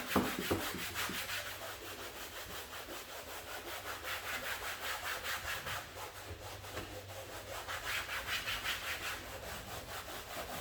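Cleaner is rubbed into Toyota Tacoma SR5 weather stripping with steady back-and-forth strokes, a close, soft, rhythmic scrubbing that continues for around ten seconds with no voices.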